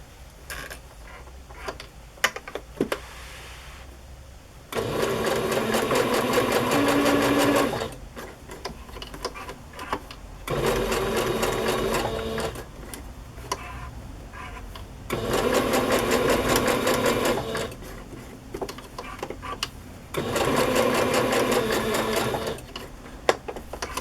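A sewing machine stitching on a small fabric patch runs in four steady bursts of rapid stitching, separated by short quiet pauses with faint handling noises.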